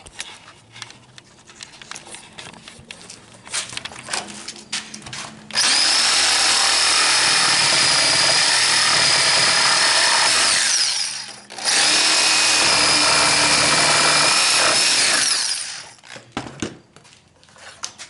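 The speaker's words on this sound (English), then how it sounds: "And now I'm going to cut that out with the jigsaw." A jigsaw cuts two 3-inch holes in a pipe for a grow pipe build, first a few short rattling bursts, then a loud sustained buzzing cut that stops briefly and resumes before winding down, with no talk.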